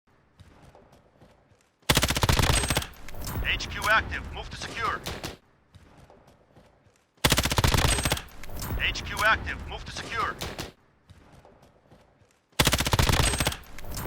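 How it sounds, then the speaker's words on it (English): Gunfire in the Modern Warfare shooter comes in three loud, dense bursts of rapid shots with clattering mechanical detail, separated by quieter stretches where an in-game voice calls out orders. "there's the gunshot itself, but there were also hit markers, a kill confirm notifier, reload sounds, bullet whiz-bys, bullet shells falling to the ground"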